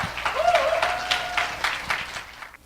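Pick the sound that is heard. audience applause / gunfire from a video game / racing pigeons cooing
audience applause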